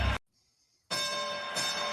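Bell sound effect played back, a short bright ringing tone that stops, then a sustained shimmering bell-like burst with a second strike near the end, loud and alone.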